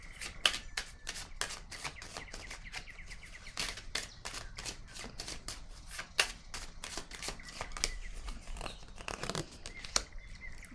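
Tarot cards are shuffled in a steady run of crisp riffling snaps, quiet and close, with no talking.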